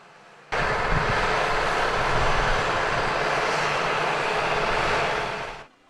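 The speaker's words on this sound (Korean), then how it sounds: "트랙터 석 대가 갑자기 나타나 거침없이 갈아엎기 시작합니다" Three tractors plowing under a blooming rapeseed flower field by the seaside, a loud steady engine drone that starts abruptly and holds constant for several seconds before fading slightly at the end, with no voices.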